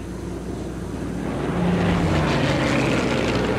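A propeller airplane engine drones overhead in the video game Sniper Elite 3, a steady low rumble that swells slightly louder midway and holds, heard alone without voices.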